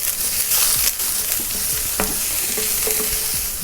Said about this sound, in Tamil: நல்லா வதக்கியாச்சு.